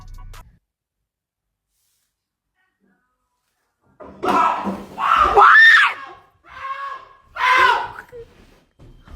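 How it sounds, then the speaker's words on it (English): Several people scream in short, loud bursts close by, a few overlapping voices rising and breaking off after a silent opening. "Someone screamed and then made someone else scream."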